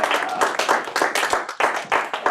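Comedy club audience claps for a stand-up comic, a short burst of moderately loud, uneven clapping from a small crowd close by.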